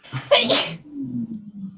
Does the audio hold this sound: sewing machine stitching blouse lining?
no